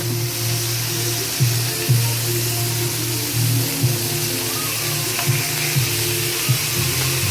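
Chicken pieces seasoned with smoked paprika and parsley fry in a pan, a steady broad sizzle with a low electrical hum and occasional soft knocks as pieces are shifted.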